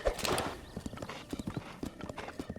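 Horse hooves clip-clop in a steady trotting rhythm in Zelda: Breath of the Wild, with a short whinny at the start and quiet gameplay ambience underneath.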